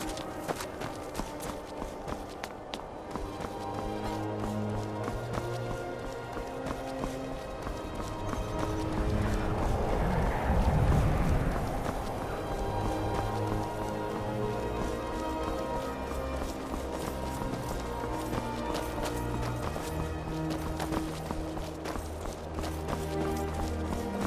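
Horses gallop in Skyrim, their rhythmic clip-clop of hooves running steadily throughout, swelling louder near the middle against a dense music-like background.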